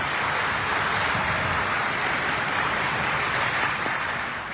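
An audience at an IMC business plan presentation applauds in a steady, dense wash of clapping that holds at even loudness throughout, with no voices on top.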